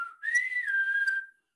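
A single person whistles a gang's code whistle, one sustained tone that rises, holds and slides down slightly before cutting off, clear and close with no talking.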